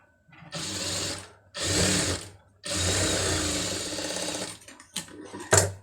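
Sewing machine stitching a sleeve made from saree cloth runs in three sustained whirring bursts separated by short pauses, then ends with a couple of quick stuttering stitches.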